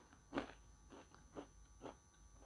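Someone bites and chews a hard, crunchy frozen pizza base close to the mic, making four quiet, separate crunches spaced about half a second apart against a faint background hum.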